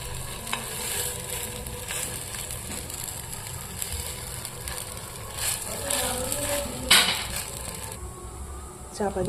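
Food cooking in a small amount of ghee in a hot frying pan for a baby's breakfast, a soft continuous sizzle with scraping and stirring clatter, close by, and a faint voice at times.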